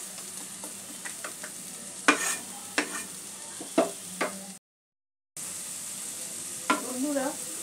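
Vegetables fry lightly in a pan over a medium gas flame, giving a soft steady sizzle close by, broken by several sharp clicks of stirring and a brief gap of silence.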